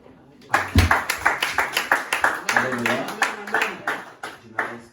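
A church congregation claps in a brisk, regular rhythm of sharp handclaps that starts abruptly, while a voice calls out over the beat.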